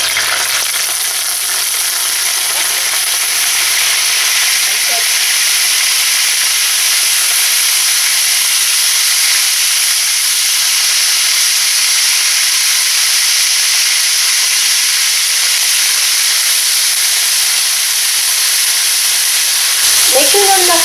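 Marinated beef for bistek tagalog fries in a pan over medium-low heat, giving a steady, loud, close sizzle and hiss that runs unbroken, with a brief clatter near the end.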